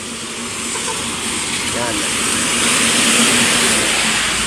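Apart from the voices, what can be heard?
trucks passing on the road during a typhoon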